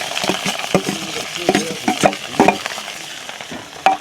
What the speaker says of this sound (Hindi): अब इन सारी चीज़ों को हम अच्छे से मिक्स करके भून लेंगे और तुरंत डाल देंगे जो हमारा कद्दू का साग है